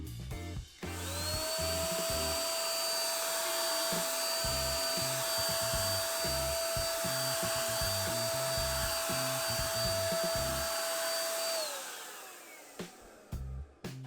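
A budget TECCPO HVLP electric paint sprayer runs steadily for about ten seconds, spraying undiluted clear gloss with a loud, constant whine and airy hiss that starts and stops cleanly, with no talking.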